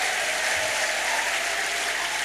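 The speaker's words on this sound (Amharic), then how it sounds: "ጭብጨባችን አርያምን ያውደው" A church congregation claps in a dense, continuous burst of applause, loud and steady for the whole moment with no break or fade.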